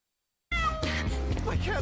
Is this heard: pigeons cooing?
no